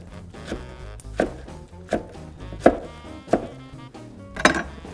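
Wrung-out cooked greens for soup are chopped on a cutting board, about seven distinct knife thwacks in a slow, uneven rhythm, close and clear, with no talking.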